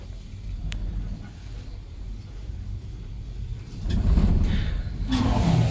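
An old Otis lift motor runs as a steady low hum and rumble, with a louder surge of machinery noise partway through.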